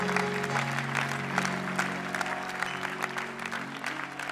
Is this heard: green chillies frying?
no